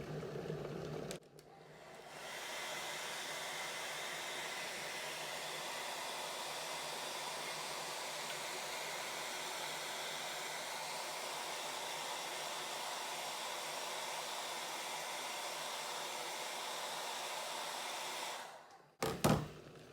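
A hair dryer blowing hot air roars steadily at close range for most of the clip, switched on after a click and shut off near the end, heating a Marvel Universe action figure.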